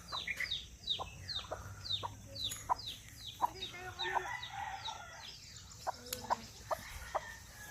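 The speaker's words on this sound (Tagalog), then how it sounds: "mga manok." Chickens clucking and squawking in a busy farmyard, with repeated short calls overlapping and a rooster crowing partway through, fairly close.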